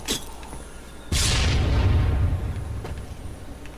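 A grenade blows up in Halo 3 during a grenade jump: one loud, sudden blast about a second in, followed by a heavy low rumble that slowly fades. No one talks.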